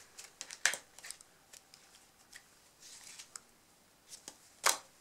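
Playing cards are handled through a 190 degree helix false cut, giving soft rustles and light slides with two sharp snapping clicks standing out, quiet and close with pauses between movements.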